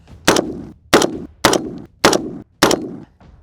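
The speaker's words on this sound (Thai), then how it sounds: "ยิงทีควันตลบเลย ฝุ่นเต็มหมดเลย" A SCAR-H rifle fired from the prone position while zeroing outdoors, five loud, sharp shots evenly spaced about two-thirds of a second apart, each followed by a brief echoing decay.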